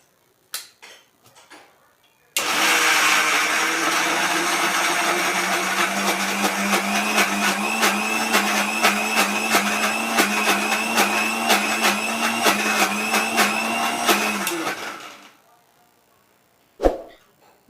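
A kitchen mixer grinder churns soaked dal into fine idli batter paste, whirring loudly and steadily for about twelve seconds with a rattling pulse, then spinning down. Brief clicks and handling noises come before and after.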